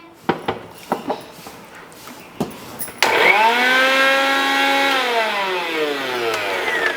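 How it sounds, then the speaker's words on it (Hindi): A kitchen electric mixer grinds spices, its motor starting abruptly after some knocks and clatter and then holding a loud, steady whine that slowly drops in pitch. "हमारा मिक्सर में मसाला पीसता हूँ"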